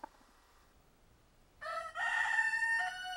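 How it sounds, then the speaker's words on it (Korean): A rooster crows loudly in a henhouse at night, its long harmonic call ringing out twice after a quiet start with a few soft clucks. "삭의 기습 공격에 닭은 반항도 제대로 못한다."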